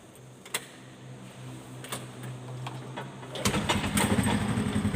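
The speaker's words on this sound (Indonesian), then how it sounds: "Pertama, kita nyalakan sepeda motor." After a tune-up, a motorcycle engine clicks faintly a few times, then catches and starts, settling into a louder, steady idle close by.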